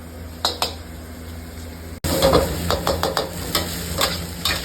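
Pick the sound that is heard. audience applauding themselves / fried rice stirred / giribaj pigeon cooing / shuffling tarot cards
fried rice stirred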